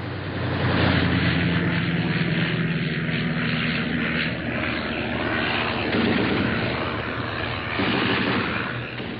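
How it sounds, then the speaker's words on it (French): A propeller aircraft's engine roars steadily overhead during the bombardment of Montmartre, a loud, continuous drone that swells and holds for the whole stretch with no voices. "un avion remonte, juste hurlant du gouffre marcadet"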